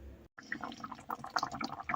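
Pork ribs in a spicy marinade bubbling as they simmer over low heat in a pot, a quiet, close patter of small pops and gurgles with no talk.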